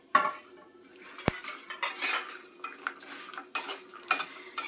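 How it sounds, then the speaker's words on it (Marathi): Cashews and walnuts are roasted over low heat in a pan, a spoon scraping and clinking against the metal in quick irregular strokes with the dry nuts rattling, close and fairly loud, no speech. "सगळं आपण मंद असेवरच भाजून घेत आहोत आता काजू टाकते आणि आखरोडी टाकते त्याच्यामध्ये"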